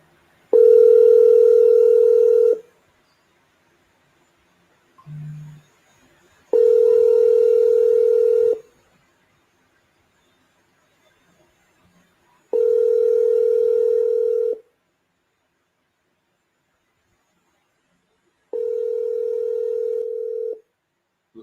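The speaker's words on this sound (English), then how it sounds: "let me call Sir Paul Maxwell." Outgoing phone call ringback tone, four long evenly spaced tone bursts of about two seconds each with silent gaps, loud and close, plus one short lower blip between the first two.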